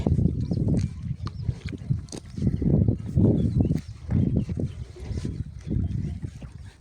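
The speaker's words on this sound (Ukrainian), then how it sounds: "Човен моторний." A motorboat engine drones outdoors on a pond, its low rumble swelling and fading in uneven pulses against a breezy background.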